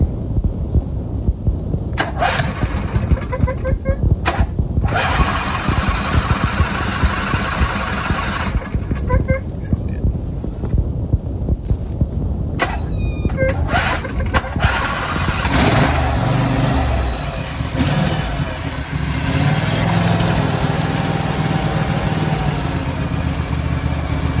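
Craftsman YT 4500 lawn tractor engine, long neglected, cranking with the key and catching, then running steadily at idle with a continuous low throbbing rumble, close and loud throughout.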